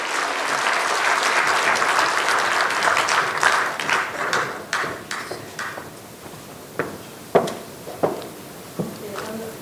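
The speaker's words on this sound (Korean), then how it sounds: "우리 선교사님들하고 올라오실 때 뜨거운 박수로 한번 우리" Warm applause from a church congregation welcoming missionaries at a Sunday afternoon service, steady and fairly loud at first, then thinning out into scattered individual claps toward the end.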